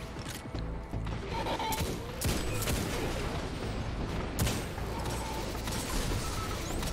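Sustained gunfire fills a firefight in the video game Destiny, dense overlapping bursts and sharp shots continuing without pause at close range, with no talk over it.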